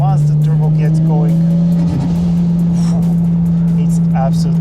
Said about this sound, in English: once the turbo gets going,